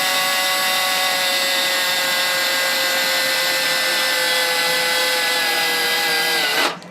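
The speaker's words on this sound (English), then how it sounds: "the pilot drill has essentially drilled through it, and it's down into my sacrificial wood" A pilot drill bit bores steadily through a metal compressor cover into sacrificial wood beneath, a loud, close, continuous whine with a slowly falling pitch that cuts off abruptly at the end.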